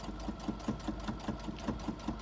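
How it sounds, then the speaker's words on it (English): A sewing machine top stitches around the edge of fabric for a toy dachshund's ears, running steadily with a fast, even needle rhythm of about five stitches per second, close and alone. "we're just going to top stitch around the edge"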